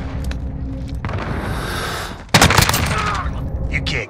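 Gunfire in Call of Duty Modern Warfare crackles in a dense burst of loud shots over a noisy battlefield background, with a brief lull before the firing intensifies.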